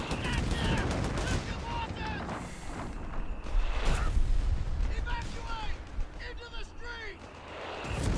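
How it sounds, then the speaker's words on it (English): A mortar fires repeatedly in the strategy game Company of Heroes 3, with crackling gunfire and booms running through the tournament match while a commentator talks over the action. "look at it fire quickly at this MG in the house"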